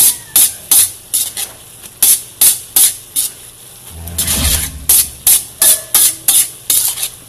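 Vegetables for pancit bihon guisado are stir-fried briskly in a wok, giving loud rhythmic scraping strokes about twice a second over a sizzling hiss, with a brief burst of heavier frying midway and no talk.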